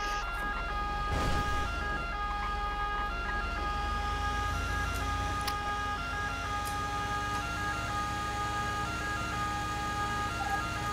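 A wailing ambulance siren in the FiveM GTA roleplay game sounds continuously with a steady up-and-down tone over constant engine rumble.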